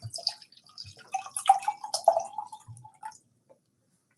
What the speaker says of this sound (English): So pour in the red wine